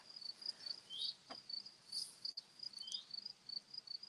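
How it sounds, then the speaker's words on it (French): Crickets chirp in a steady, high-pitched pulsing chorus, continuous and fairly close throughout a quiet outdoor moment, with no one talking. "C'est chouette, ces petits grillons."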